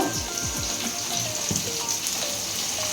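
Onions hit hot oil in a pan, setting off a bright, continuous sizzle with a few quick stirring scrapes near the start, close and fairly loud.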